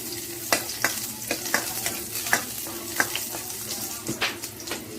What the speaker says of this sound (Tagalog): Lagyan natin yung bawang. Gigisa mo natin yung mga